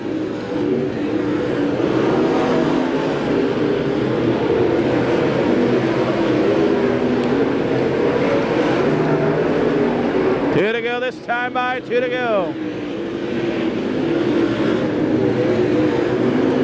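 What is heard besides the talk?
non-wing sprint cars racing around a dirt track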